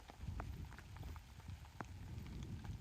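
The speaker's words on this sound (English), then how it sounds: "it's starting to rain" Steady cold rain patters outdoors on the Pacific Crest Trail, a dense wash of droplets with a few sharper drips standing out, close by and fairly constant throughout.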